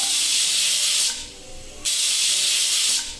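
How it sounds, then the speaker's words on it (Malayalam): A pressure cooker cooking dal with drumstick and mango whistles, hissing loudly in two long steamy bursts, broken by a brief quieter pause. "ഇപ്പോൾ ഇവിടെ 3 വിസിൽ വന്നിട്ടുണ്ട്"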